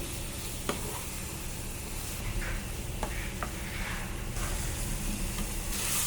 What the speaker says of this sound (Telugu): ముందుగా శుభ్రం చేసుకున్న రొయ్యలు వేసి వేసుకుని బాగా తిప్పుకోవాలి